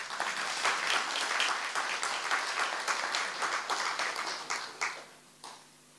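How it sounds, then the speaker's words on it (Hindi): Audience at a Brahma Kumaris spiritual class in Pandav Bhawan breaks into a dense, lively round of clapping that holds steady, then thins out and fades to a few last scattered claps. "तालियां तो बजाओ जरा।"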